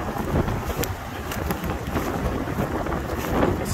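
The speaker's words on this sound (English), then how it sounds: "The wind's picking up. It's a really windy day today." Strong wind buffets the microphone in a steady, loud roar with rushing gusts, no voices present.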